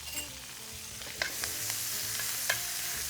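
Garlic and rapini stirred in a hot pan, a steady close sizzle and frying hiss with a few sharp scrapes of a spoon against the pan, no voices.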